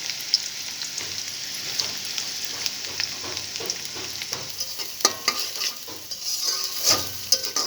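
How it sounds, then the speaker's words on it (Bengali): Onions frying in hot oil with cardamom and cinnamon, a continuous close sizzle broken by repeated scraping stirs of a spoon against the pan, with no one speaking. "সুন্দর করে পেঁয়াজটাকে আমি ব্রাউন কালার করে ভেজে নেব"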